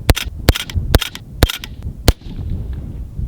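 A Ruger Mini 14 rifle fires Phantom Defense ammo at an outdoor target, five sharp shots in fairly quick, slightly uneven succession, loud and close, followed by a trailing rumble.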